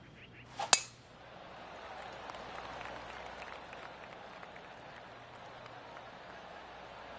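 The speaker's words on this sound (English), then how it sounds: "golf clap" Scattered polite golf clapping from a gallery crowd in the video game PGA Tour 2K23, a soft ripple of hand claps sustained after a sharp clink of a club striking the ball at the start, faint and steady.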